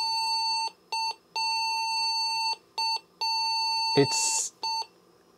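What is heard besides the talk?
old PC beeping at power on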